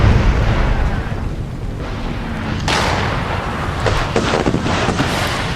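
Civil War artillery cannon fire in the Chattanooga battlefield of the game Brother Against Brother: two heavy booming blasts under a constant rumble of battle, loud and close, with no voices.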